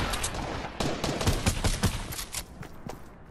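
Gunfire in the Fortnite battle royale game: a dense, loud volley of rapid shots with several sharp close cracks in the middle, thinning out toward the end.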